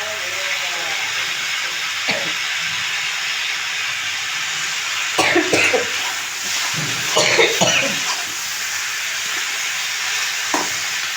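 Tomato dropped into a hot pan of frying helencha greens tempered with panch phoron, giving a steady close hiss and sizzle with a few bursts of stirring and spatter.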